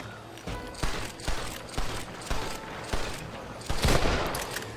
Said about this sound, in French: Ce fusil Springfield là, il est vachement puissant